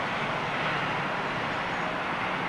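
Virgin Atlantic Boeing 747 G-VLIP roaring with a steady, broad jet-engine rumble, loud and continuous throughout with no pauses or voices.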